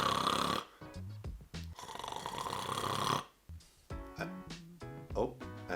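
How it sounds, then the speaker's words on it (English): A man acts out snoring while testing a snore detection device, giving loud nasal rasping snores in repeated rhythmic bursts with short pauses and wet throaty breaths between them, close to the microphone. "do my best acting job at snoring"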